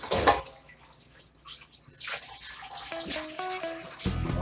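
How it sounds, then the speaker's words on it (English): Hot water drained off boiled potatoes pours and splashes, spilling onto a table, with a running, gushing flow that rises and falls, close by, and some clinking near the end. "I just spilled water on the table."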